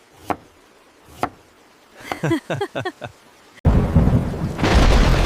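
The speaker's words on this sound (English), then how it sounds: "It is raining so much." Two sharp knocks and a burst of chirpy tones give way to a sudden, loud roar of heavy rain that pours steadily and swells toward the end.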